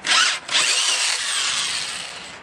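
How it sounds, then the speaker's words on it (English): A handheld drill with a 2-inch hole saw bit whines loudly and steadily as it cuts into PVC, briefly dipping near the start before grinding on continuously close by. "So you need a 2-inch hole saw bit, and we're just using a handheld drill."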